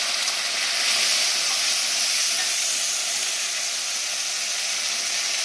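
Ginger paste and chopped tomato dropped into hot oil tempering for a Bengali vegetable dal, producing a loud, continuous hissing sizzle that stays strong and steady throughout.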